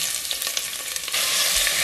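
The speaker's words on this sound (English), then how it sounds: "So oil is hot, so I'm gonna fry this onion first." Onion frying in hot oil for beef korma, a loud, dense sizzle that swells and grows fuller after the first second, with no talking.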